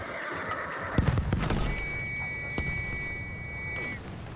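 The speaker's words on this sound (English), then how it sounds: "What can this horse do?" In Battlefield 1, a horse whinnies in a short shrill burst amid clip-clopping hooves, followed by synthetic game tones ringing steadily.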